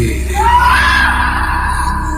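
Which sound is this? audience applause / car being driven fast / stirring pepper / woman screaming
woman screaming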